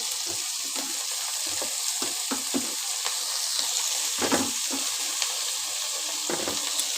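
Chopped capsicum and green chili fry in a pan with onion, a continuous close sizzle punctuated by frequent scraping stirs and clinks of a spatula, no one speaking.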